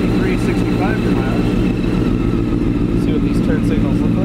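A 2005 Honda CBR600F4i sport bike engine runs at a steady, loud idle throughout, a continuous close-up drone with faint higher whines over it.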